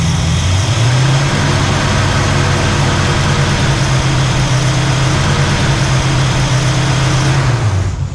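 A car engine fitted with an Edelbrock AVS2 carburetor runs loud and close, a steady low rumble that rises slightly early on, then sags and falters right at the end.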